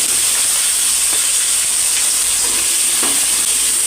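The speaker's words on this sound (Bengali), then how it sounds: "পেঁয়াজটা একটু ভাজা ভাজা হবে" Onions fry in hot oil with whole cinnamon, cloves and cardamom, giving a loud, continuous sizzling hiss close by, with a few faint ticks and crackles.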